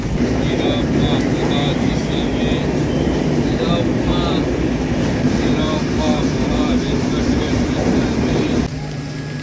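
The Thane to Kankavli Janshatabdi Express, a passenger train running slowly, rumbles steadily along with continuous broadband rolling noise, while people talk throughout over the din.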